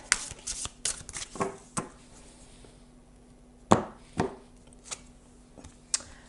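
Tarot guidance cards are shuffled by hand, giving a series of sharp, close riffles and slaps, with quieter riffling between the louder bursts.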